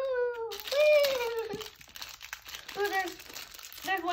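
Plastic blind bag toy packaging crinkles and tears close up while a voice and other chatter run over the rustling.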